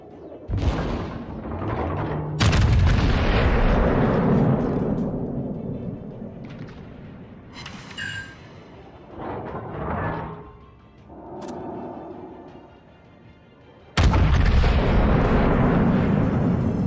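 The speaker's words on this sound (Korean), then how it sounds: "너 야마토 폭탄 제대로 맞아 봤냐?" In the naval video game World of Warships, the Yamato battleship fires its main guns, producing massive booming blasts with long rumbling tails. One loud volley opens, another follows, and after quieter rumbles and distant impacts a final heavy broadside lands.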